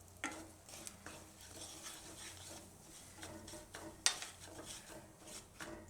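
Ground spices, turmeric, coriander-cumin, garam masala and red chilli, are stirred into a pan of Hyderabadi dum baingan with the heat off, giving soft scraping and rubbing strokes, a faint low sizzle and one sharp utensil clink, close and quiet.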